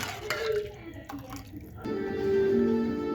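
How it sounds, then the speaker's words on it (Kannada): Hot water is poured into a cooking pot while making Mumbai-style misal pav, starting with a few drips and splashes and then becoming a steady, close pouring stream. A voice speaks over the early part. "ಇವಾಗ ಇದಕ್ಕೆ ಬಿಸಿನೀರನ್ನು ಸೇರಿಸ್ಬೇಕು, ನೋಡ್ಕೊಂಡು ಸೇರಿಸ್ಕೊಳ್ಳೋಣ."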